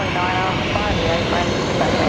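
An Airbus A330 roars steadily on landing at Brisbane Airport with its thrust reversers deployed, a loud, broad, unbroken engine rush with no pause across the short stretch.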